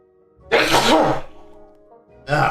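Two sneezes from one person: a loud, close burst lasting about a second, then a second sharp sneeze starting shortly after, with quiet between them.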